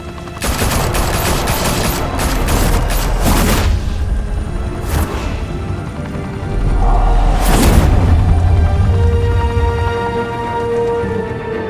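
Gunfire in the Batman: The Telltale Series video game: a loud, dense fusillade of rapid shots and bursts, with several sharp cracks and heavy booms standing out, continuing for the whole stretch without speech.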